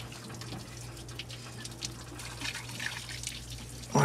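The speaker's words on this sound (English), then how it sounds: "You hear the water come out of that block when it broke suction." Water drains and trickles out of a corroded 1974 Dodge W200 engine block after it breaks suction, a steady light splashing and dripping under a low engine hum, with a louder burst right at the end.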